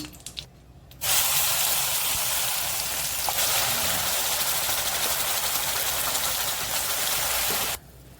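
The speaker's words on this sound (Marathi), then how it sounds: "वाटण छान तेलावर आपण परतून घेऊया" Ground masala paste for a red surmai fish gravy hits hot oil with curry leaves in a pan, bursting into a loud, steady sizzle that holds for about seven seconds before cutting off.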